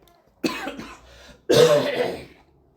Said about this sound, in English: the cough lingers forever. It just does not want to go away.